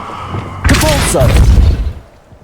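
Depulso, a force-push spell in Hogwarts Legacy, goes off as a sudden loud thumping whoosh that swells for about a second and then fades quickly into quieter game ambience.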